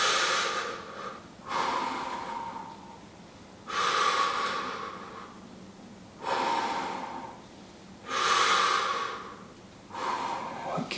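Slow, deep breaths in and out through the nose during a seated stretching exercise, close and clear, forming a steady rhythm of about five breath sounds with quiet pauses between them.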